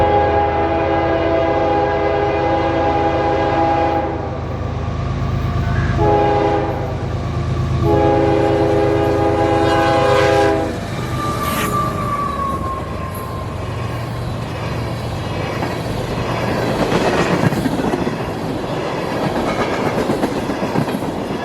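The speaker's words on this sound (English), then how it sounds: "I've seen a train come through here at track speed" A train on the W&A line sounds its horn in long blasts, then roars past at track speed with rushing wind and rapid clickety-clack of wheels on the rails.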